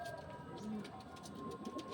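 Pigeons in a home loft give soft, low coos against a faint background of rustling.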